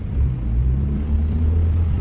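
A car rolls into the entrance of a parking garage at a concert venue, giving a steady low engine rumble close by with no talking.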